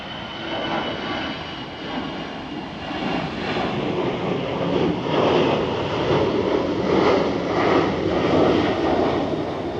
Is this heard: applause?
no